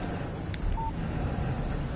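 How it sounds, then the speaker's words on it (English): A short electronic phone text-message alert in Alan Wake Remastered, one brief tonal beep over a steady low background hum with faint chirps just before it. "Text message from Barry."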